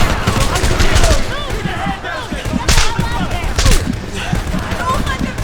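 Continuous heavy gunfire in the video game Homefront: dense automatic bursts and booms go on without pause, loud and close, with a voice talking over the shooting.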